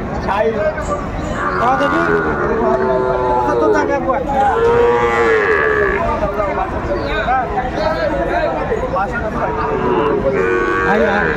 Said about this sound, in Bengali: আমরা শাহিওয়ালের মধ্যে ষাঁড় বাচ্চা।